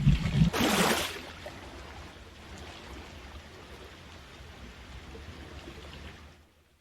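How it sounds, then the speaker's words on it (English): In the Aquas water asset, the camera crosses the water surface: a brief loud splashing burst, then a muffled, steady watery rumble that fades out toward the end. "The underwater sound, the distortion, the above water, below water camera sounds, those are all part of Aquas"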